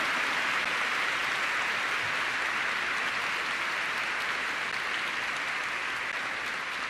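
A church congregation applauds during a Mass homily, a dense, even roar of many hands that holds steady and fills the room without any voice over it.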